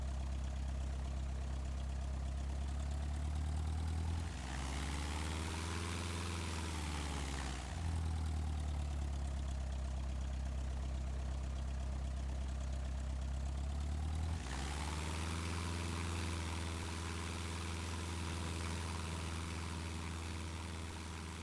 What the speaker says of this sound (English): he's taxiing for takeoff